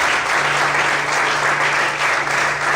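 A church congregation at an evening service claps together in a loud, continuous wash of applause with a faint steady hum underneath.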